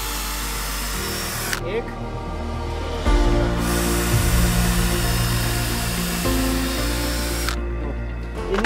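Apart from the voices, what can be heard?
power drill boring holes in wood for chicken shed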